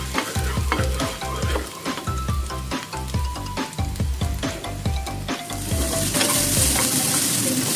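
Garlic and onion sauté in a hot pan for pork giniling, a loud close sizzle with rhythmic stirring scrapes that swells into a bright, steady frying hiss.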